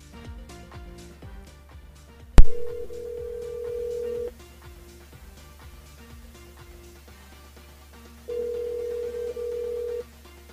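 On a live French radio broadcast, a telephone line rings out with two long electronic ringback tones after a sharp click, between faint background clicks and music.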